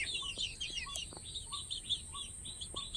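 Small backyard flock of chickens, seven hens including a small black one, chirping and clucking in short repeated calls over a steady background hiss, fairly near but soft.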